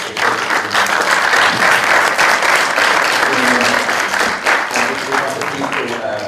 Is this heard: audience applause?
yes